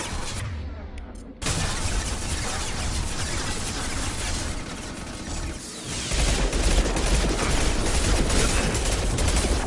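Sustained gunfire and weapon blasts from a firefight in the video game Mass Effect 2, a dense, continuous barrage of shots and impacts filling the whole stretch, loud and unbroken.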